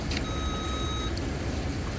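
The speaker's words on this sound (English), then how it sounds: "leave a message after the beep" An answering machine gives a single steady electronic beep lasting just under a second, clear over a soft background hiss.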